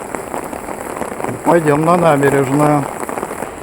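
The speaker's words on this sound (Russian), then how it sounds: "Дождик, как из ведра." Heavy downpour in St. Petersburg at Palace Square, a steady wash of rain drumming on surfaces throughout, with a voice speaking over it midway.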